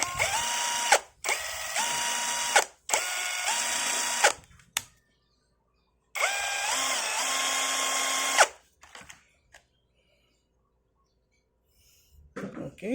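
An XTitan cordless impact wrench runs in four separate bursts, each a loud, close whirring rattle with a shifting motor pitch. Short pauses fall between bursts, then a quiet stretch follows with a few faint clicks.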